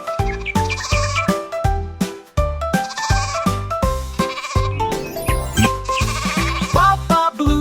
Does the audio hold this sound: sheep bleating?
yes